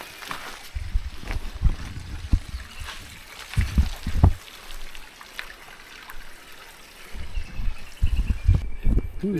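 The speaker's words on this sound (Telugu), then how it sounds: "ఇక్కడ మనం వినొచ్చు వాటర్ ఫాల్స్ శబ్దం వస్తుంది" Steady rushing water of a forest waterfall in the Lankamala forest flows underneath, with louder low thumps and splashes breaking through at intervals.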